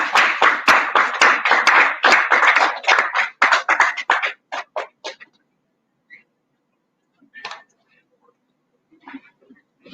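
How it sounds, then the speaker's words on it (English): A small audience at an essay competition recognition ceremony claps for a student, a brisk patter of hands for about four seconds that thins to scattered claps, then near silence with a few faint sounds. "let's just give her a round of applause and encourage her"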